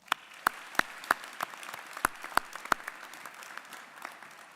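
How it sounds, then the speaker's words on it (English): At a spring graduation ceremony, scattered and fairly faint applause rises from the audience, with a few sharp, distinct claps standing out over a soft background patter. "And let's give these leaders another round of applause."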